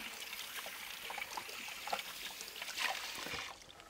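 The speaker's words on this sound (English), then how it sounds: "I'm gonna wash my hand." Water runs from a kitchen tap during handwashing, a steady trickling stream with small splashy surges, fairly faint and without speech.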